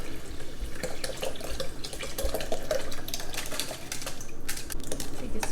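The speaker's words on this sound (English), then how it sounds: "Now I'm going to pour the mixture into the blender." Soaked rice and almond mixture for horchata pours into a blender, a steady wet splashing and trickling that runs close and continuous for several seconds, with no talking.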